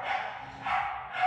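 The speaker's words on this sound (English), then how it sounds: "you can hear the dogs barking" Dogs barking outside a window, heard faint and distant through a noise-cancelled headset, a couple of muffled yips and barks over a brief stretch.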